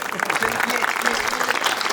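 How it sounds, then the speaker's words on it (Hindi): Audience clapping at a Hindi poetry recitation, a dense steady patter of many hands held at an even level throughout, with voices mixed in over it. "तालियां वालियां बजाते रहना"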